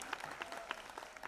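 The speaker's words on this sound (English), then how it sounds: "Can we have a loud cheer for the entire team at Josh Foundation?" An audience at a charity dance competition claps and cheers, heard faint and distant, with scattered claps over a soft crowd murmur.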